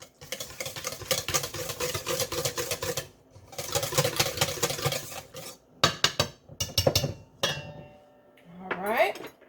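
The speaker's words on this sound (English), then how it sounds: "now we're gonna whisk this up." A whisk beats crab cake mixture seasoned with Old Bay and fresh ground pepper in a bowl, giving off fast metallic clattering in several loud bursts with short pauses between them. A voice briefly joins near the end.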